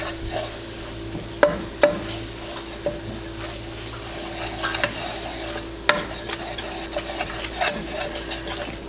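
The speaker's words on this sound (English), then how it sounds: "I'm also going to add some smoked paprika. I'm going to stir that up." A roux of flour, bacon fat, butter and smoked paprika being stirred in a pan, with a soft sizzle and scattered scraping and tapping strokes from the utensil, close and moderately quiet, with no voices.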